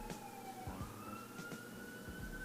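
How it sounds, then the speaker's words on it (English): Sirens wail faintly in the distance during a boxing event, a rising tone over low rumbling traffic, with a few soft thumps nearby. "As you hear the sirens in the background"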